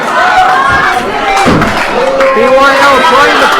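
A wrestling crowd at a 3WA Carnage event cheers and shouts loudly and continuously, with a heavy thud in the middle as the roar keeps going around it.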